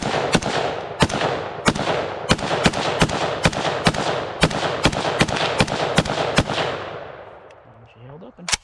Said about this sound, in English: let's run a few rounds, and then we will come back and talk about the new guns